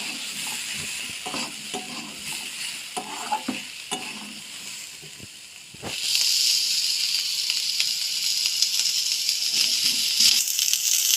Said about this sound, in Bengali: সবজিগুলো হালকা একটু ভেজে নেবো